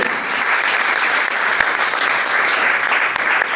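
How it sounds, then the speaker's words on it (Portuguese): A church congregation applauds loudly and steadily, a thick wash of many hands clapping close by with a few sharper claps punctuating the continuous roar. "Aplauda ao Senhor"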